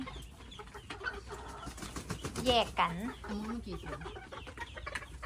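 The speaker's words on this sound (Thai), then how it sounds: "ไก่แจ้ ดุจริง ๆ หวงหวงเนี่ยจิกจิกเขาจิกเขา" Bantam chickens cluck and squawk nearby, with louder agitated calls in the middle among rustling, while a person speaks briefly.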